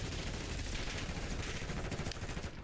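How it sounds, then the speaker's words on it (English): Rekova automatic pistol fire in Black Ops 6, a dense, continuous stream of rapid shots lasting nearly three seconds, loud and unbroken, with no talking. "So now I'm consciously using the Rekova pistol"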